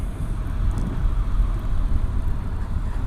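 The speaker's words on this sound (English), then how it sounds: "Second gear, clutch is out, and here we go." A Honda NC750X motorcycle rides in second gear at low revs, about 20 km/h, giving a steady, low, close engine rumble with no voices.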